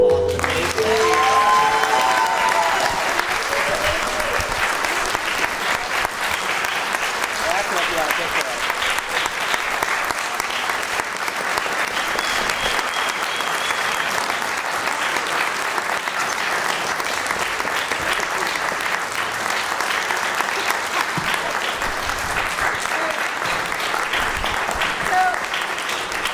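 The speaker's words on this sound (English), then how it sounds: "let's give Mina a round of applause for the" Audience at a film screening Q&A with director Mina Chow applauds in a loud, sustained clapping wave that continues steadily throughout, with a voice briefly at the start.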